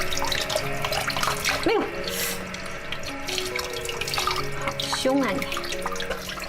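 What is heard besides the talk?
rinsing shrimp under running tap water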